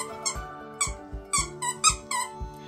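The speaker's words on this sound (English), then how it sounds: "you could use a squeaky toy" A small dog's squeaky toy squeaks in quick repeated bursts, about eight sharp close squeaks in an uneven rhythm, clear and alone.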